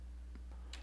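Keys on a computer keyboard are pressed, giving a few faint, quick clicks over a low steady hum.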